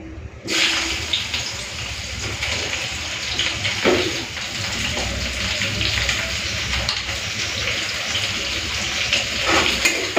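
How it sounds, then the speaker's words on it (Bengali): Bitter gourd sizzles steadily as it fries in a pan, a continuous close hiss and crackle with occasional small pops and no talking. "আর এখন আমি উচ্ছেটা ভেজে নিই"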